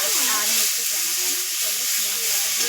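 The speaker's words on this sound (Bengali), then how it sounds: "চলো আমি ভালোভাবে ভেজে নিয়ে এগুলো তারপর মশলা দেবো" Fish pieces frying in hot oil for Bengali macher jhal, a steady loud sizzle and hiss throughout, with a voice talking over it.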